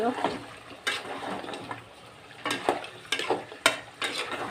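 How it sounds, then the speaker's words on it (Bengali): Meat being stirred as it cooks in a pan, a low sizzle punctuated by several sharp scraping and clacking strokes of a spoon at an uneven pace, close by, with some voice mixed in. "নেড়ে দিই মাংস"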